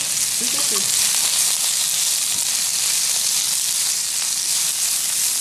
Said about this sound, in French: quand les légumes, tu vois, ils ont un peu saisi dans ton wok